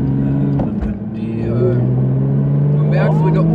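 Porsche GT3 RS engine picking up under a little throttle, a loud droning note that rises and holds steady, with people talking over it in the cabin.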